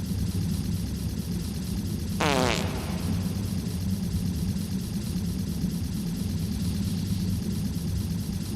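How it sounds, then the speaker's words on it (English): A single short fart sounds in the game Harold Halibut, a brief buzzy rasp over a constant low engine-like hum. "And a fart."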